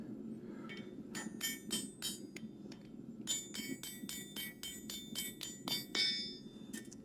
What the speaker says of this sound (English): I hit the anvil there.